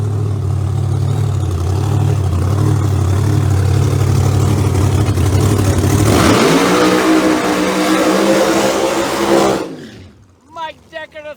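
A Fulton-powered Pro Mod drag race car revs hard during eliminations at a drag strip. The engine roars loud and close, climbs in pitch, then cuts off abruptly, and a voice talks briefly afterward.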